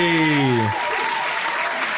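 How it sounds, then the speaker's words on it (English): A short burst of applause closes out a round of clapping on a chat podcast, fading quickly after a brief tonal sting at the start. "Round of applause."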